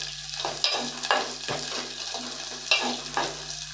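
Green chilies and onions fry in oil for plain biryani, with a steady sizzle broken by several scraping stirs and a few sharper clinks of the spoon against the pan.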